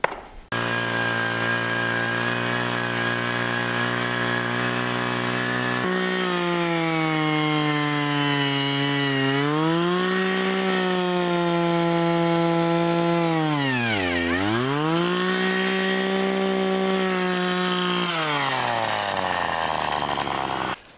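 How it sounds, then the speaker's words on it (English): A gas-powered hand auger's small engine drones loudly and close for about twenty seconds, its buzzing tone rising and dipping repeatedly as the load changes. "So we're gonna have to use our hand auger, the gas powered one, which doesn't thrill me."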